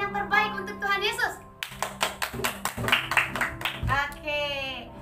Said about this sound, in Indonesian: Berikan tepuk tangan yang terbaik untuk Tuhan Yesus.